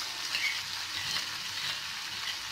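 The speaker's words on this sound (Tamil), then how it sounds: "ஸோ இந்த வெங்காயம் ஆல்மோஸ்ட் வதங்கியிருக்கு." Chopped onions sauté in a hot pan for a quick tiffin sambar, giving a steady, close sizzle and frying hiss with no talk over it.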